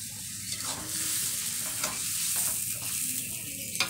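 Spice paste frying and being stirred in oil reused from frying eggs, a steady loud sizzle with scraping stir strokes throughout, no voices.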